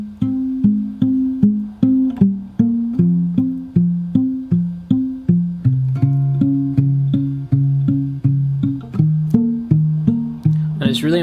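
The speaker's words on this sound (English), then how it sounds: "You'll notice it's got this kind of alternating bass pattern throughout." Fingerstyle acoustic guitar from a song lesson, playing a steady alternating bass line under a picked melody, with evenly spaced plucked notes throughout, close and clear, and no talking.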